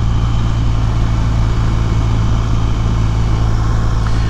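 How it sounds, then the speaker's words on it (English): A BMW R1200RT motorcycle runs steadily, its exhaust giving a low, even drone with a constant hum and no change in pitch, loud and close with no voices. "The exhaust note's actually nice. It's fairly pleasant. It's not going to be aggressively loud"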